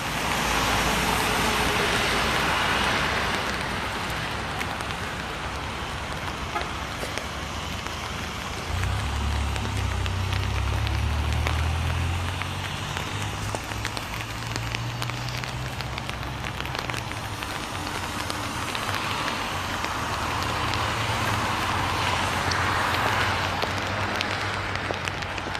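Light rain falls in Seoul, South Korea, a constant hiss of drops on pavement with a low rumble of passing traffic and a car engine swelling and fading midway.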